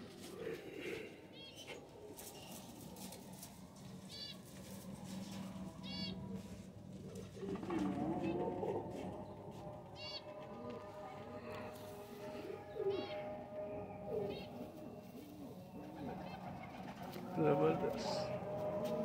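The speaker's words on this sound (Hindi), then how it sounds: "कबूतर" Teddy pigeons coo repeatedly in soft, throaty bursts, close by, with people talking and rustling movement throughout.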